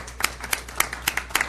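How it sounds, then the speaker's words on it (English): Round of applause at a city council meeting, a short patter of several hands clapping in quick uneven bursts, fairly quiet and without voices. "let's give a round of applause"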